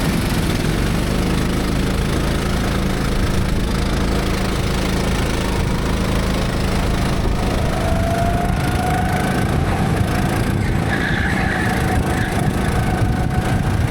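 A racing go-kart engine howling flat out during a championship race, loud and continuous from onboard, with a rising pitch as the kart accelerates in the second half and constant buzzing roar throughout.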